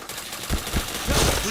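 Burst of gunfire in the shooter game Point Blank, a few sharp close shots in quick succession over a dense game soundscape, with no talk.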